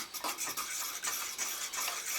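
Spoon stirring mushrooms into gravy in a pan while cooking a boneless leg of lamb, a close, soft, steady run of scraping, swishing strokes with no talk.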